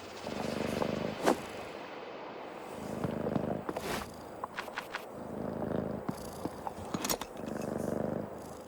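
A cat purrs in the horror video game Creepy Tale 2, a soft, low rumbling purr in repeating breaths with brief clicks between, faint and with no one speaking.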